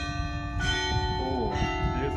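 Church bells ringing on Palm Sunday with sustained, overlapping tones and a steady ringing hum, moderately loud throughout.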